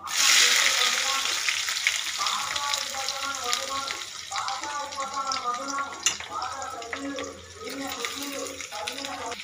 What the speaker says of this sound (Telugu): ఇవి వేసుకున్న తర్వాత ఇప్పుడు ఇందులో ఉల్లిపాయలు వేసుకున్నాం.